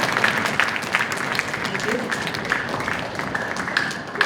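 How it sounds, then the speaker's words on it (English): An audience at a sixth-grade school band and orchestra concert claps steadily and fairly loudly, a dense wash of hands that holds level throughout. "Can we give them a round of applause, please?"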